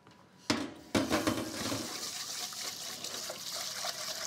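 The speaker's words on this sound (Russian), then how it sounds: "рис я уже промыл" Tap water pouring over round-grain Krasnodar rice being rinsed, opening with two sharp knocks, then a steady running, splashing flow of water at close range.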